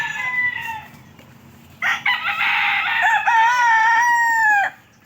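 A rooster crows at a farm, a couple of loud, drawn-out cock-a-doodle-doo calls close by, with a softer crow first and then a long full crow that cuts off sharply, over quiet rural background.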